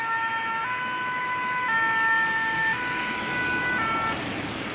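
An ambulance siren wails with a steady two-tone pattern, its pitch stepping between notes at a moderate distance over a constant background rumble of traffic.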